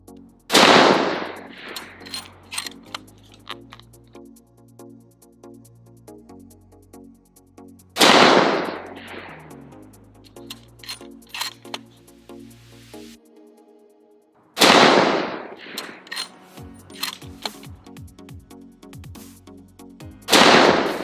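A Howa 1500 Mini Action rifle in 7.62x39 fires Fiocchi ammunition, three loud, sharp shots about seven seconds apart. Each blast has a ringing decay, and quieter clicks and handling noises fill the gaps.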